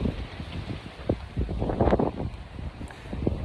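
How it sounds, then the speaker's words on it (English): Wind buffets the microphone in uneven gusts, with low rumbling thumps and rustling across the whole clip; no speech. "Oh wow, it's really windy."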